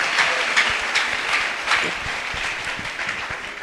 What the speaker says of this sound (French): Est-ce qu'on peut acclamer très fort pour le roi?